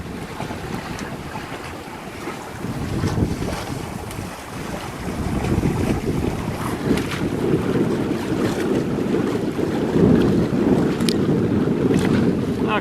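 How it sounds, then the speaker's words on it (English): A sailboat sails close hauled at about five knots near Elbow Reef off Hope Town, with gusty wind buffeting the microphone over the rush of water along the hull and waves, loud and continuous. "Yeah, really good sailing."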